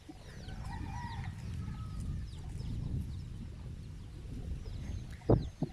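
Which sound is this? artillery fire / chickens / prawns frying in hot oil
chickens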